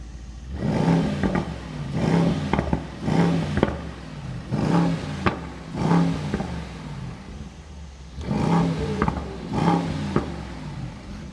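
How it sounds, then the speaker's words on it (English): A Mercedes-AMG GT63 E-Performance hybrid V8 with its exhaust in Sport Plus revs in a series of sharp, loud bursts, each rising and falling back, roughly every second, close by with no talking. "now you can actually rev the car and enjoy the sound of the V8"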